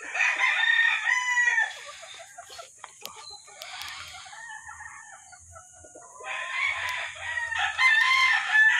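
Mount Banahaw chickens on a farm: roosters crow loudly and close in long calls at the start and end, with clucking and scattered fowl sounds between, and faint low murmurs under a quieter middle stretch.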